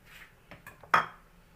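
An egg cracked and dropped into a bowl while making a quick homemade sweet dessert: a couple of light taps, then one sharp crack and a short wet splat. It is close and brief, and nobody speaks over it.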